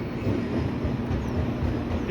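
Auckland Western Line electric train at Newmarket station, a steady broadband rumble of wheels and motors that holds at an even loudness throughout, fairly close, with no voices.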